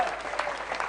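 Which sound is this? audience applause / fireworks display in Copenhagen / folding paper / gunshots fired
audience applause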